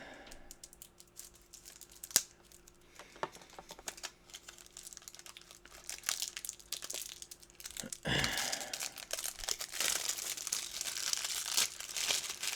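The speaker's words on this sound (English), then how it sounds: "let me open up the decks of cards here" Plastic wrap being torn and crinkled off decks of game cards, with close, sharp rustles and crackles that grow busier and louder toward the end, no talking.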